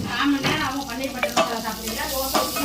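Mint being sautéed in a pan for paneer butter masala gives a steady close sizzle, with repeated scraping strokes of a spoon stirring against the pan.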